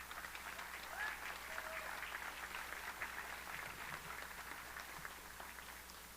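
An audience applauds the graduates at an adult education graduation ceremony, a steady wash of many hands clapping from a distance for several seconds with no voices over it.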